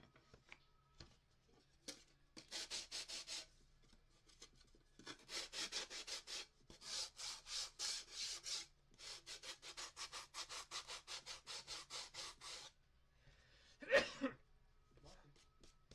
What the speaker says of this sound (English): And get back to sanding.